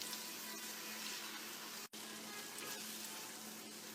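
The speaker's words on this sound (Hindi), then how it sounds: "अब ये वाले टमाटर भी डाल लेते हैं। पकाएंगे हमारे टमाटर" Tomatoes going into a pan with garlic-ginger paste for capsicum mince keema, a steady close sizzle and frying hiss running throughout with one brief cutout near the middle, no talking.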